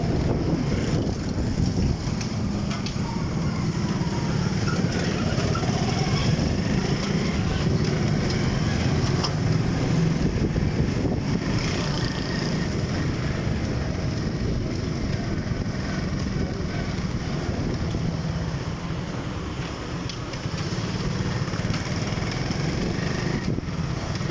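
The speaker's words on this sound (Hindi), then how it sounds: "आज मैं बाइक पे सफ़र कर रहा हूँ।" Steady motorbike engine drone while riding on a hot sunny day, continuous and close, mixed with heavy wind buffeting on the microphone for the whole stretch, no talking.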